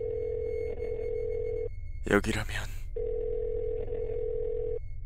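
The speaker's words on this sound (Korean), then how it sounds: "방금 전까지 보던 블로그에 나와 있는 연락처로 전화를 걸고 있었다" A steady telephone dial tone hums while a call to a number is placed. The tone breaks off briefly as a voice speaks, then resumes at the same level.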